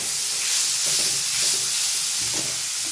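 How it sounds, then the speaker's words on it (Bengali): Onions fry in a pan on a home stove, giving a loud, continuous sizzle and hiss with a few soft stirring scrapes. "এই যে এখন পেঁয়াজটা ভাজছি"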